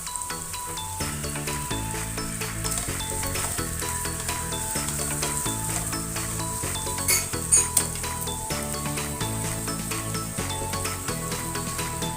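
Halved cherry tomatoes sizzle steadily in a hot pan for a vegan herb pasta, a constant loud frying hiss with a few light clinks around the middle and soft background music underneath.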